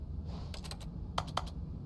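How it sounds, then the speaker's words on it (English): Keys clatter in The Stanley Parable video game, two quick bursts of three or four crisp, close taps separated by a brief pause, with no voices over them. "Keyboard input received."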